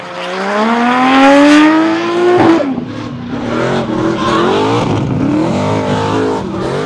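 A drift car with an RB30 six-cylinder engine screams at full throttle, its rising rev tone peaking loud before shifting into steady, gritty engine roar mixed with tire noise, close and dominant throughout.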